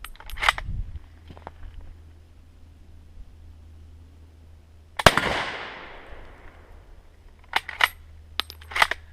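A K98 Mauser loaded with Persian 8mm hangfire ammunition lets off a small early pop, then a loud, close gunshot midway that rings out and decays, followed by several sharp metallic clicks and clacks.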